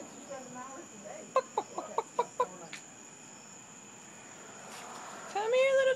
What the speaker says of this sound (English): Come here, little chicken.